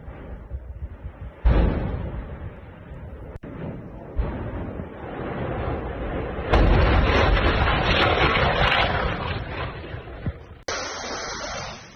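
Several loud explosions at a Russian airbase struck by a Ukrainian drone attack, with burning helicopters reported: heavy booming bursts and a long roaring, crackling rumble that swell and fade in turn.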